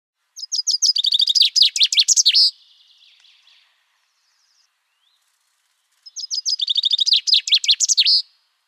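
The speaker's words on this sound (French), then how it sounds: "Sixième fringille, le pinson des arbres." Common chaffinch song: two bright, rapid descending trilled phrases ending in a flourish, separated by a few seconds of silence, clear and close against a quiet background.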